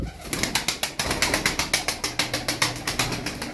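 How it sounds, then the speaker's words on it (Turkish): Rapid, rhythmic flapping of tumbler pigeon wings, close and steady, a fast clattering beat with no voices. "Kanat sesi efsane."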